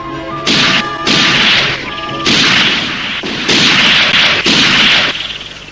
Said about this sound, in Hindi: गोली चलाओ जल्दी।